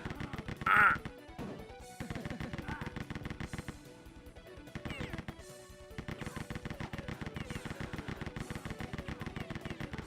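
Rapid, steady machine-gun fire rattles in Rise of the Triad: Ludicrous Edition, a continuous metallic stream broken by a brief pause and a short squawk-like burst.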